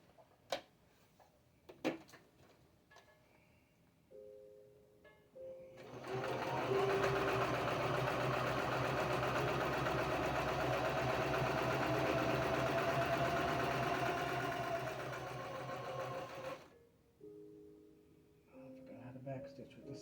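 A sewing machine stitches a quarter-inch seam around a fabric face cover, running in a steady whirring burst of about ten seconds with quiet clicks and handling before and after.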